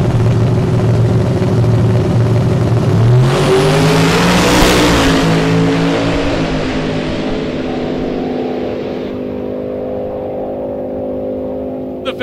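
Orange metallic Camaro at a drag strip, its engine roaring loud and close as it launches and accelerates hard down the track, the pitch climbing then fading into the distance, with an announcer's voice over it.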